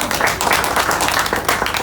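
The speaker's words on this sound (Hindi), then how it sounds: "जिसके लिए भी तालियां होनी चाहिए" Audience clapping at a birthday celebration, a steady dense wash of many hands applauding together throughout, fairly loud and continuous with no pauses.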